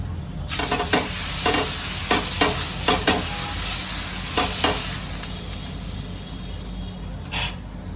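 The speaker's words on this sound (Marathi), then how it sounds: "आता साधा डोसा करण्यासाठी पण मी तव्यावर आता ओल्या कपड्याने मी एकदा पुसून घेईल" A hot dosa tava wiped with a wet cloth gives a loud, continuous sizzle, with a series of sharp scraping swipes across the griddle and one final stroke after a pause.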